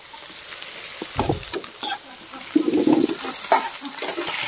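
Leaves are dropped into hot oil while pork curry is cooked, bursting into uneven crackling sizzles and sputters close by that grow denser and more continuous toward the end.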